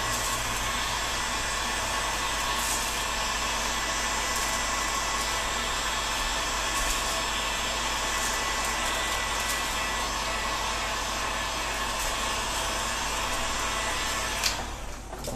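A hot-air gun blows steadily on a Scythian-style horse-bow to heat it for bending, a loud, close, continuous roaring hiss that lasts the whole time.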